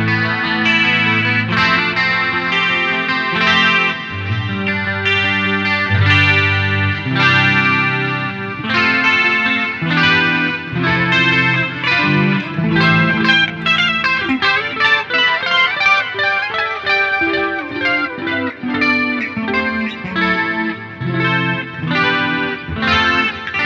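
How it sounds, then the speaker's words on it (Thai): Paramount PE-700 electric guitar played through chorus, delay and reverb effects, a continuous stretch of loud, thick chord and melodic playing with shimmering, echoing sustain and no voices. "เดี๋ยวจะลองเล่นเป็นเอฟเฟคคอรัสดีเลย์รีเวิร์บนะครับยาวๆไปเลย"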